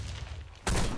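A video game grenade blast and gunfire: a quiet lead-in, then a sudden loud broadband burst that fills the final third of a second.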